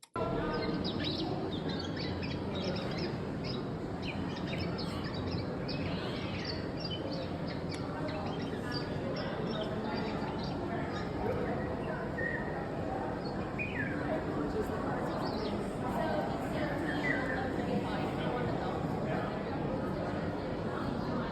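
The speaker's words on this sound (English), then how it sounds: "this birdsong sound installation and animation at the Birds Brilliant and Bizarre exhibition" Dense layered bird calls and chirps from a museum exhibition sound installation play continuously over a steady ambient wash, with faint voices murmuring in the background throughout.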